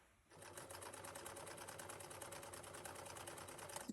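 An electric sewing machine runs steadily for nearly four seconds, stitching three sides of a bag made from an old jacket, its fast even needle rhythm close and loud with no talking.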